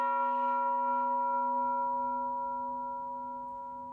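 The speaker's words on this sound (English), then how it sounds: "This is a bunt cake pan." A bundt cake pan struck once as a percussion instrument rings out with a clear, bell-like metallic tone whose sustained overtones slowly decay over several seconds, heard alone and close.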